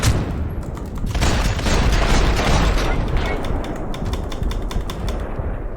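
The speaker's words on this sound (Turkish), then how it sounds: "Mermi nereden geliyor?" Dense gunfire from a Max Payne 3 firefight on Brazilian streets, rapid overlapping shots and bursts rattling continuously at close range, with a voice speaking over the shooting.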